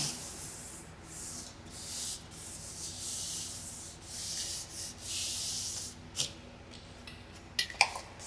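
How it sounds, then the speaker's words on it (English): A glued picture is pressed and rubbed onto the edge of a composition book, with soft repeated rubbing strokes, quiet and close, ending in a couple of light taps. "I'm pressing on the edge of the book just to make sure that everything gets glued down"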